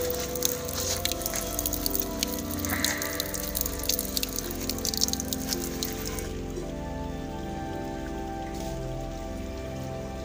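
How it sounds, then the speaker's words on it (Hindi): Water pours steadily into a bucket at a natural village spring, a continuous close splashing rush with a brighter spattering edge that eases toward the end, with no talk over it. "तो फ्रेंड्स अब मैं यहाँ पर पानी भर रहा हूँ"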